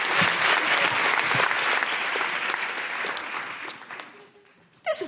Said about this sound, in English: Big round of applause, Maria Mercedes Lindeskov.